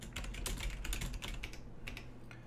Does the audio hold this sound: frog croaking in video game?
no